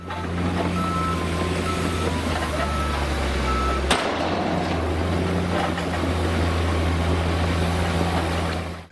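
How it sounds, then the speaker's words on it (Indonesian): Toy sand truck with electronic sound effects, a steady looping engine hum with beeping tones, close and loud for the whole stretch, with a sharp click near the middle. "Di sini ada mobil truk pasir."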